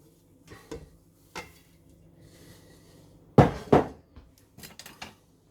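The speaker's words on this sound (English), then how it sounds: "Give it a stir." A spoon stirring a hawthorn mixture in a pot, sparse clinks and knocks with two louder scraping clatters near the end, close and otherwise quiet.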